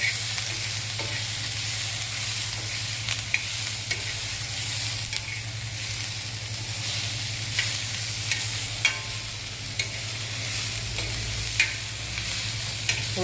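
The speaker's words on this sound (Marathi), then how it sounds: "थोडं अजून 2-3 मिनटं परतून घ्यायचं." Onion masala gravy for kaju masala sautés in a pan, a steady sizzle with occasional scrapes and stirring knocks, a low hum running underneath throughout.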